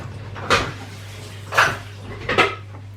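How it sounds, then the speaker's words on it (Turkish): A spoon stirring milky coffee in a cup gives three separate bright clinks against the ceramic, near and fairly clear, over a steady low hum. "Böyle karıştırıyorum."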